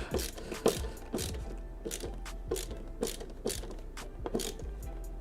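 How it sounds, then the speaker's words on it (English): Screwdriver turning screws while a tiny 4.3-litre travel PC is assembled: a steady run of close, sharp clicking ratchet-like ticks repeating every half second or so, with low handling rumble beneath. "this is a fair amount of screw driving I'm doing here"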